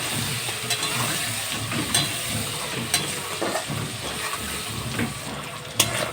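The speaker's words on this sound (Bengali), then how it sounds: "পেঁয়াজগুলো ভালো করে লাল লাল করে ভেজে নেব" Onions frying in oil with cardamom, cinnamon and cloves, a steady sizzle broken by the scrape and clatter of stirring, close and alone.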